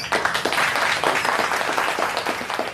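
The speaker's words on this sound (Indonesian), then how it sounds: "beri tepuk tangan semuanya" Group clapping during a children's quiz game on Indonesian independence heroes, a short burst of brisk, uneven hand claps from a small crowd heard up close.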